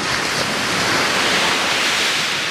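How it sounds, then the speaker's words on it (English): Ocean surf breaking on a sandy Hawaii beach, a steady broad wash of waves rolling in close and loud, with no voices over it. "This is the ocean and the beach that we love"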